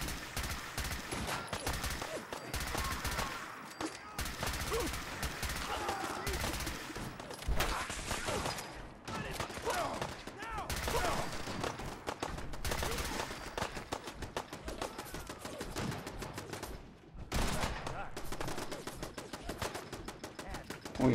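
Rapid gunfire in the Fallout 4 video game, dense bursts of automatic shots and blasts running almost without pause, loud and close, with brief dips between volleys.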